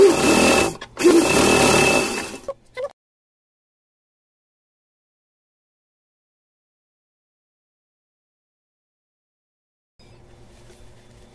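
A sewing machine stitches around the edges of cut fabric pieces for a Janmashtami outfit: a loud, fast-running burst of about three seconds with a short pause, then silence and a faint mechanical hum returning near the end.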